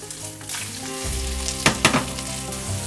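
Tuna cabbage pancake frying in a pan just after being flipped with a spatula, sizzling throughout with a couple of sharp spatula scrapes and taps near the middle, close and loud.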